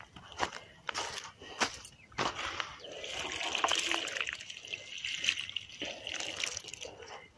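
Water poured from a container onto watermelon plants in a garden bed, a close, fairly loud splashing and trickling that runs steadily for several seconds with a few sharper splashes near the start.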